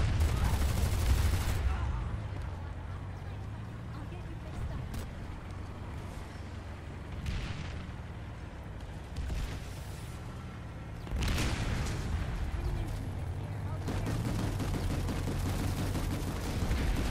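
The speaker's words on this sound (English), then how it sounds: "Random shot." Gunfire and explosions in the video game PlanetSide 2, with loud bursts at the start, middle and end over a constant rumbling battle background and scattered distant shots.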